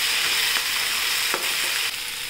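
Onion sautéing in a pan for a spiced bun dosa, a steady close sizzle with occasional soft scrapes of stirring, no talk.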